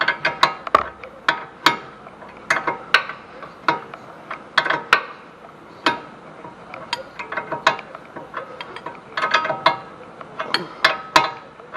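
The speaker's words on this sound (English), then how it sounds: "putting some pressure on going up to keep that from spinning so we can tighten this nut" A wrench tightens a hub nut on a Ford Taurus while a pry bar holds the hub from spinning, producing repeated sharp metallic clicks and ratcheting bursts in uneven rhythm, close and fairly loud.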